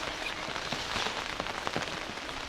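Rain falling outdoors during biryani cooking in Sri Lanka, a dense, steady patter of drops on surfaces, close and even throughout with no voices.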